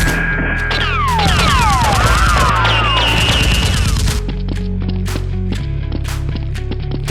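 Toy foam-dart guns firing in a staged battle between players, rapid overlapping bursts of shots with swooping effect sounds and steady background music throughout, loud and busy.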